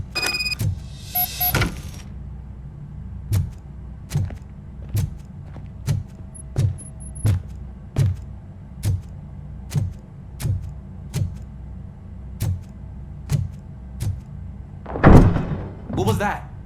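A door being opened in the Robocop: Rogue City video game: steady heavy mechanical thuds repeat about every 0.7 seconds over a low hum, then a louder rushing burst near the end.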